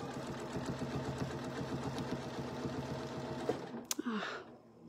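Sewing machine running steadily while stitching a circle on a quilt, a fast even mechanical rhythm close by, then a few clicks and a stop.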